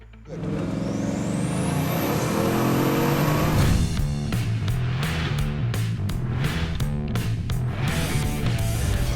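A Bugatti Chiron engine starts and revs hard, a loud close-up roar with a rising whine, then settles into a pulsing high-revving drone of rapid throttle blips.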